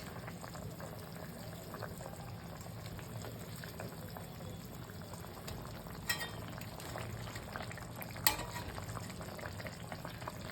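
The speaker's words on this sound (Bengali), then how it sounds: "এবার এই ভাজা ছোট রুই মাছ দিয়ে দিচ্ছি" Fried small rohu fish are added to a simmering vegetable curry cooked with turmeric water, a steady close bubbling sizzle broken by a couple of sharp utensil clatters.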